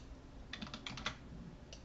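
Quick bursts of keyboard typing, a short run of clattering keystrokes followed by a pause and a couple more taps, fairly quiet.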